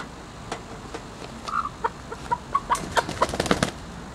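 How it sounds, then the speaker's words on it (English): Former battery hens cluck softly and sporadically near an igloo-style plastic cage with a netting run, a few rustles and wing flaps mixed in, quiet and close with no talk. "they're about to go into their new cage"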